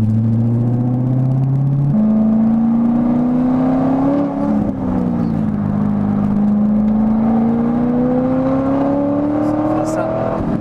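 Corvette C6 Z06 V8 roars steadily while driving, its engine note rising and falling through the gears, loud and close for the whole stretch with no pause.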